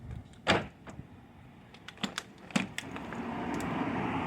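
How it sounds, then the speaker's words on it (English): The cab door locks of a McLouis motorhome engage in a quick run of sharp mechanical clicks and clunks, one louder thunk near the start and several close, crisp clicks later, over a low steady background rumble, with no talking. "The cab doors have locked, this one hasn't."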